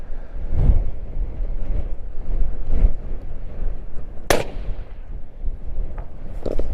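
A single sharp rifle shot from a hunting rifle in an MDT HNT26 chassis cracks loudly outdoors amid steady wind noise, followed by fainter distant thumps.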